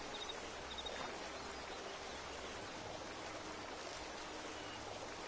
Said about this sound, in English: And now you're in a waterfall.